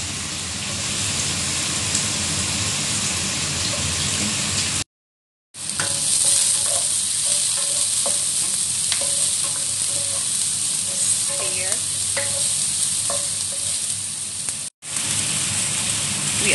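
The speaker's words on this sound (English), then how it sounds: "it's already hot, so I put the garlic and the ginger. Also the onion." Garlic, ginger and onion crackling in hot oil, a steady bright sizzle heard close and continuous, briefly cut off twice, with faint clinks from stirring and no speech.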